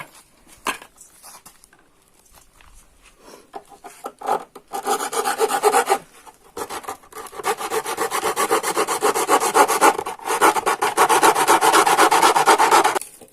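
Rasping and cutting on the side of a motorcycle mudguard, an RC 200 guard being fitted to an RS 200, with long steady filing strokes that build to a loud, continuous scrape after a few short bursts.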